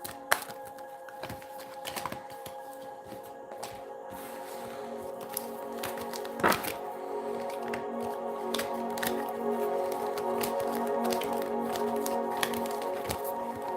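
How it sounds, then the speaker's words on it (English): Tarot deck being shuffled by hand, a run of soft, rapid card riffles and flicks with occasional sharper snaps over a faint steady hum, with no voices. "My goodness, I cannot shuffle."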